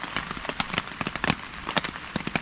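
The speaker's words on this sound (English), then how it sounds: "I love the sound of rain." Rain pattering on a tent and the surrounding forest during a wet camp, a steady hiss broken by frequent sharp, close drops tapping irregularly on the fabric.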